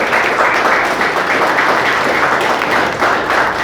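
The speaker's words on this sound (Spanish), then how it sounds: "¿Cuántos le pueden dar un aplauso al Señor?" Church congregation applauding the Lord during a sermon, dense continuous clapping that stays loud and even throughout.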